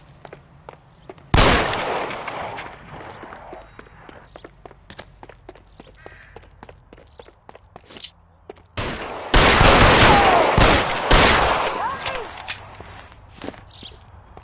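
Gunfire in a video-game shootout in L.A. Noire, with a sharp burst early on and a longer, louder volley later, spread over sparse footsteps and quiet ambience.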